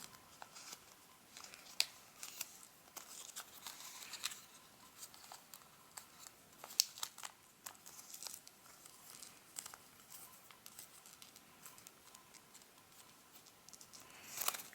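Origami paper for a buck figure is being folded and creased: faint, close crinkles and soft taps come in scattered bursts against a quiet background.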